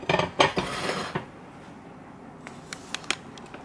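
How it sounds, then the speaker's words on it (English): Ceramic tableware, plates and dishes from a kitchen collection, clatter loudly against each other for about a second, then a few lighter, scattered clinks follow as pieces are set down. "we have the deep dishes"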